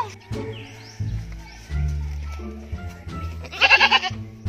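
A goat bleats in a Cebu village setting, a loud wavering cry near the end over a busy background of music and other sounds.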